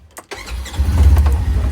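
A 2018 Polaris General side-by-side engine cranks briefly with a few quick turns, catches, and settles into a loud, close, steady idle rumble.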